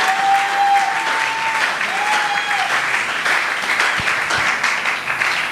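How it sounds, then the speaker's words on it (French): A church congregation claps steadily in praise, thick continuous applause with a few raised voices and whoops riding over it. "Est-ce qu'on peut acclamer Dieu?"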